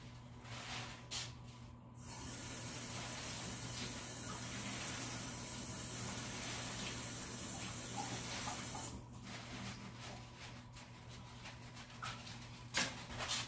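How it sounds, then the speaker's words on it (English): Collard greens being rinsed under a running tap, a steady hiss of flowing water splashing in a sink for several seconds, framed by softer rustling and handling of the leaves. "So I chopped off the stems and I'm just going to rinse them really quick."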